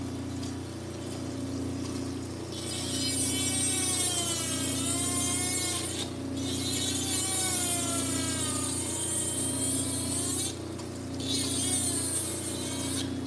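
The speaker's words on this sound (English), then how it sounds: "The drill kind of stalls a little bit when it hits some of that garnet" Rotary drill or Dremel grinding into hard green garnet set in softer ash, a loud continuous whine that wavers in pitch as the bit bogs down, broken by two short pauses.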